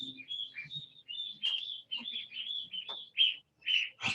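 Newly hatched goose chicks give repeated high, thin peeping chirps in quick succession, close by and fairly clear, with faint low rustling and soft thumps underneath.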